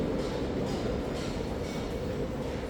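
A train rumbles with a steady, dense roar as it arrives at the railway station in Jeonju, Korea, heard continuously with no break.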